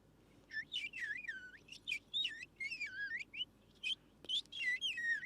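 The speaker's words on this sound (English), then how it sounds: "Like birdsong." Birdsong nature ambience: bright whistled chirps and warbling phrases repeat in quick bursts, clear and fairly close over a faint background hiss.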